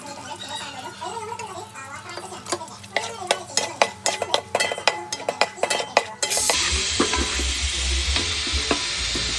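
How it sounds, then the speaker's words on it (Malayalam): Beef being stirred and dry-fried in a pan for a Kerala-style beef dry fry, a run of sharp, rhythmic spatula scrapes and clanks against the metal, then a loud continuous sizzle takes over. "ഈ ബീഫ് നേരെ ഇതിനകത്തേക്ക് ഇട്ട് ഒന്ന് വരട്ടി സെറ്റായിട്ട് എടുക്കണം"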